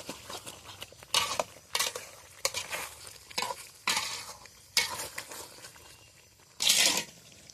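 Potatoes go into a pan over a wood fire while chicken kosha cooks, giving repeated clattering stirs and scrapes of a utensil against the pan in bursts over a soft sizzle, close and fairly loud, with no voices.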